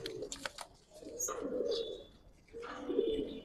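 Pigeons coo in low, throaty, rolling phrases close by, two or three drawn-out calls with faint chirps and rustling between them.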